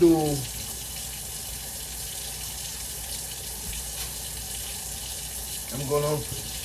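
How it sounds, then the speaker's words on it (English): Water running from a kitchen tap into a blender jar while cooking rice and peas with coconut milk, a steady moderate rush lasting the whole stretch with a brief louder splash near the end. "add more water to this, and I'm gonna blend it again."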